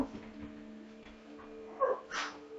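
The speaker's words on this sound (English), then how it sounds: "Crazy dogs." Dogs give a few soft whimpers and a short yip, close but fairly quiet, brief and intermittent against a low background hum.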